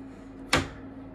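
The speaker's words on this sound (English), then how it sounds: "Got a magnetic thing on here just to shut the door." A 3D printer enclosure door snaps shut on its magnetic catch in a single sharp, close click against a quiet room hum.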